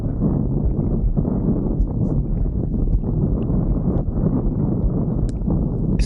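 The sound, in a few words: wind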